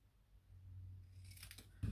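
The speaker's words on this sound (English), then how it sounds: "I'll just get some scissors and just roughly snip" Scissors roughly snipping through cardstock while making a handmade card, a couple of quick faint cuts near the end after a quiet lead-in with low background hum.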